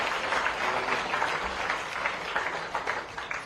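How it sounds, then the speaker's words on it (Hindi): Crowd at a welcome ceremony for a world-champion athlete at the Chief Minister's residence applauding, a sustained wash of scattered clapping at moderate loudness. "क्रांति के लिए ताली बजाएं"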